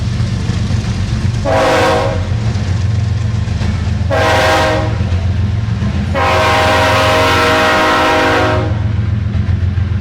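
A CSX train rumbles past with a constant low roar while its horn sounds three times, two short blasts and then a longer one, loud and nearby, with no talking.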